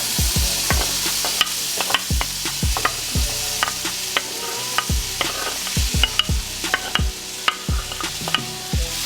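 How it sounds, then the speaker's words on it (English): Plant-based seafood sizzles steadily in a hot pan while a utensil repeatedly scrapes and clacks against it, stirring at an uneven rhythm, close up without voices. "we're gonna show this thing sauteing"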